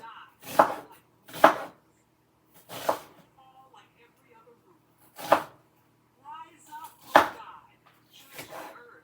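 An onion is cut on a board with about six separate knife strikes that are sharp and close, spaced irregularly with quiet gaps between them, and a voice is faintly heard in between.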